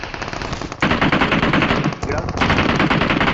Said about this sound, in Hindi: अब किसी ने पीछे से फायरिंग कर दी